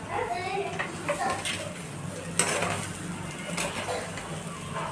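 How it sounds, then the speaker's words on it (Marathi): A spoon stirs freshly cooked pulao in a cooking pot, giving soft scraping and clinking against the metal with a few brief clatters, heard close up under a steady kitchen background. "आता आपण याला चम्मच देऊ मिक्स करू छान"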